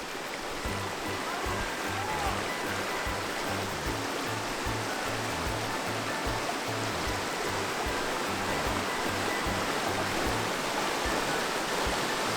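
A waterfall at Yedigöller roars as constant rushing water, a dense even hiss with a low churning rumble, steady throughout.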